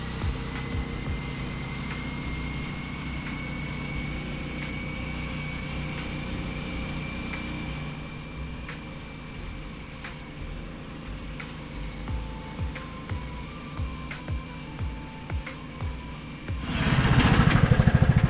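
Yakut Promax 500 and Taiga Varyag 500 snowmobiles ride through winter snow with a continuous engine drone and shifting pitch, and a louder roar rises near the end as one passes close.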